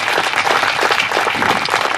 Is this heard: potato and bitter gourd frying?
no